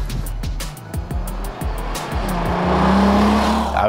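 A Volkswagen Golf R32 pulls away, its engine rising in a steady loud drone with tire noise, repeated engine pulses at the start building to a sustained note, no talk.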